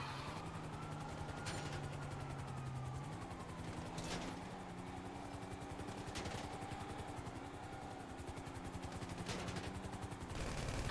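A helicopter in the video game GTA 5 thrums steadily with a droning rotor whine, while repeated sharp gunfire bursts punctuate it.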